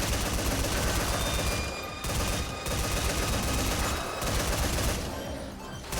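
An automatic turret in Metal Gear Survive fires in dense, rapid sustained bursts, loud and close, with two short pauses between long streams of shots.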